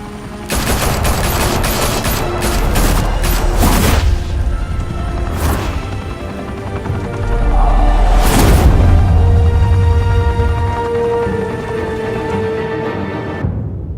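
Heavy gunfire in a Batman video game, with loud bursts of rapid shots and booming impacts, a long sustained volley around the middle and crashing debris.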